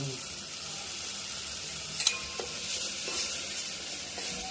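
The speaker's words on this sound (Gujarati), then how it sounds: "દાળનો વઘાર થઈ ગયો છે" Constant hiss of a dal tempering frying in hot oil in a pan, close and moderately quiet, with a couple of faint utensil clicks partway through.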